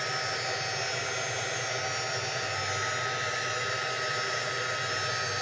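A hair dryer blows steadily and loudly throughout, drying acrylic Shimmerz paint on framed art, a constant close-up whoosh with no pauses.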